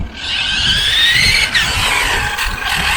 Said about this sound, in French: Vous avez vu la roue arrière comment elle bloque?